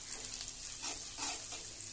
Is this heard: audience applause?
no